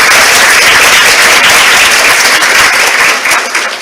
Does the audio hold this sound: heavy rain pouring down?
no